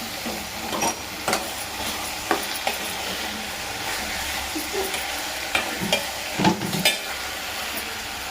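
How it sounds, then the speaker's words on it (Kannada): Vegetables frying in oil while being stirred: a constant close sizzle punctuated by sharp, irregular scraping knocks of a spoon in the pan, with no speech. "ಇದನ್ನು ಎಣ್ಣೆಯಲ್ಲೇ ಬಾಡಿಸ್ಕೊಳ್ಳೋಣ."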